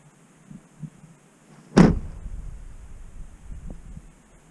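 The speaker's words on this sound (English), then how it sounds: "I'm going to shut my door a couple more times" A door slams shut once among trees in the woods, one loud close thud with a short ringing decay, set against near-silence with only faint low sounds around it.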